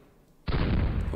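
Artillery fire in the WWII wargame Panzer Campaigns Stalingrad '42, a single loud close boom that bursts in after a quiet moment and sustains a dense roar to the end.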